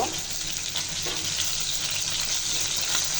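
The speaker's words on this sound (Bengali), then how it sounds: "মাছের লেজগুলো ভাজা হয়ে গেছে এখন তুলে নিব" Hilsa fish tails frying in hot oil in a home kitchen, giving a loud, continuous sizzle and crackle with occasional stirring noises, with no voices over it.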